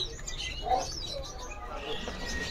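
A male sanger songbird gives short chirping calls, with one brighter note standing out among faint scattered tweets over a low background murmur of a bird shop.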